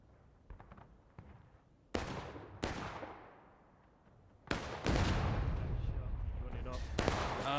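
Booming cannon shots in the War of Rights video game, set on the Bolivar Heights map, several sharp blasts with long rumbling decays and distant echoes, the later ones louder and overlapping.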